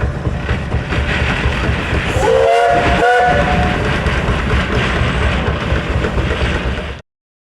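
A compound steam traction engine, with high- and low-pressure cylinders, chugs and rumbles steadily up close in a parade at a threshing show, with a brief whistle blast partway through before it cuts off abruptly.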